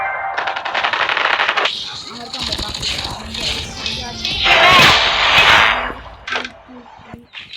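Rapid gunfire from a gun in Call of Duty, with dense bursts of shots and game effects layered together, loud and continuous across the stretch. A voice talks over part of it.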